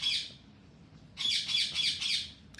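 Pet parrot squawking in loud, harsh bursts, one call at the start, then a rapid series of repeated squawks after a short pause, close by and alone.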